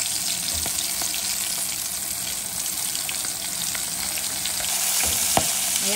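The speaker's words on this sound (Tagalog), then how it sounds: "Prito natin sa isa-isa." Squid rings coated in seasoned flour fry in hot oil, giving a steady, dense crackling sizzle throughout, with a few sharper pops and clinks near the end and no talking.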